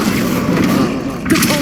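An Expelliarmus spell cast in Hogwarts Legacy bursts out as a brief booming whoosh with a low thump, close and loud, mixed with a voice calling out.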